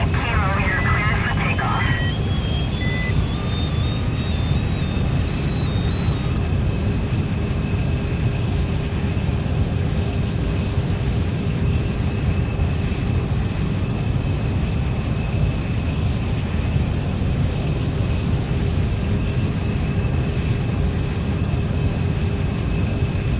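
Steady, loud jet engine roar from an airliner taking off in a flight simulator game on Android, a constant broad rumble and hiss throughout, with a brief rising whine near the start.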